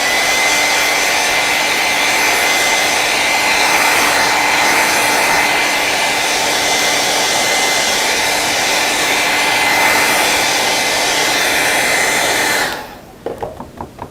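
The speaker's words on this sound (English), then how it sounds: "I might hit it just for a minute with the blow dryer." Blow dryer drying acrylic paint on a painting: a loud, steady, close rushing whoosh that holds evenly for about twelve seconds, then switches off, leaving a few faint knocks.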